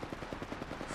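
Rapid automatic gunfire in the video game Apex Legends, a fast even rattle of shots, fairly faint and with no talk.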